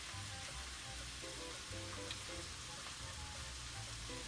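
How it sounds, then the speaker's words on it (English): Onions sautéing in an uncovered pan, seasoned with pepper and garlic powder for chopped steaks, give a steady, soft, close frying hiss that runs unbroken throughout with no voices. "I'm going to let this saute with the lid off"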